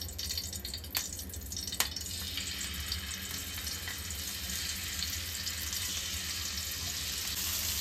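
Paneer pieces fry in hot ghee, giving a continuous soft sizzle and crackle with a couple of brief clicks near the start, fairly quiet and close.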